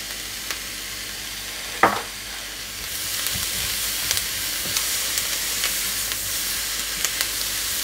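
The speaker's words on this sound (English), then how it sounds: "So I'm going to stir fry it for about 2 to 3 minutes." Chicken stir fry sizzling and frying in a hot pan, a steady broad hiss with a sharp clatter near two seconds and small scrapes and taps of stirring throughout, fairly close and continuous.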